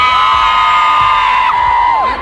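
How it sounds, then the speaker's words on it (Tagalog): Fans at a live performance in Redwood City keep up a loud continuous cheer, with sharp whoops and shouts rising above the roar and a falling yell near the end. "Isang malakas panahiyawan at sigawan!"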